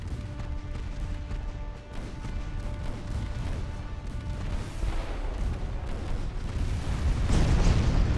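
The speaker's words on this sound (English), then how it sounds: "Oh, torpedo detonation." A torpedo detonating during a naval battle in Ultimate Admiral Dreadnoughts, heard as a sustained, rumbling blast that swells louder toward the end over a dense, roaring battle backdrop.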